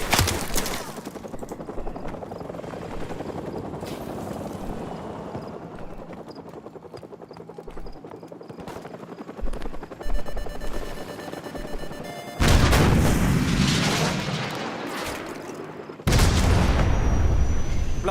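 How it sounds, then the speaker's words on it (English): Stinger missile launched at a flare-popping helicopter in Call of Duty: Modern Warfare Remastered, with sustained rotor and battle noise, then two sudden loud blasts of launch and impact breaking through near the end. "So, grab another Stinger and fire again."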